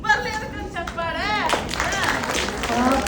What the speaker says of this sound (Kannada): ಬರ್ಲಿ ಅದಕ್ಕೆ ಚಪ್ಪಾಳೆ